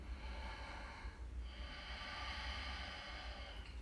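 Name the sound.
breathing during a yoga hold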